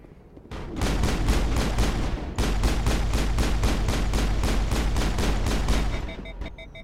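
Sustained rapid gunfire from a weapon in the video game Mass Effect, a loud continuous burst of evenly spaced shots lasting several seconds with a brief break near the start, then trailing off.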